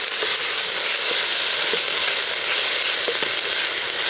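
Garlic, chillies and tender banana leaf sauté in a pan for a banana leaf chutney, giving a loud, continuous frying sizzle with scattered faint crackles throughout.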